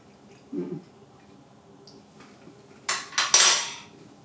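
A spoon scrapes and clinks against a salad dish: a soft early tap, then a quick cluster of close, bright scraping clatters near the end in an otherwise quiet kitchen.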